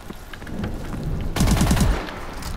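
Rapid burst of S-12 shotgun blasts in Call of Duty Advanced Warfare, several loud booming shots in quick succession after a short stretch of quieter in-game movement noise.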